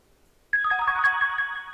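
A phone ringtone from a mobile dating video game starts abruptly after a short quiet stretch, a bright sustained electronic melody playing loudly and alone.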